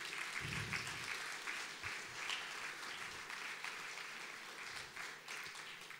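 Sustained audience applause at a Slovenian charity concert for abandoned animals in Koroška, a broad steady clapping from a hall crowd, moderately distant, with a few low thumps mixed in and no speech.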